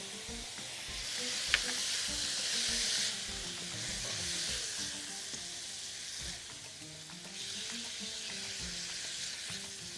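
Shrimp frying in butter in a pan give a close, steady sizzle and crackle that fills the whole stretch, with a few stirring scrapes and no talking.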